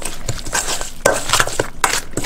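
Meat marinade with ras el hanout, half an onion, a garlic clove and coriander being stirred in a dish, giving close, irregular clinks and scrapes of a utensil against the bowl.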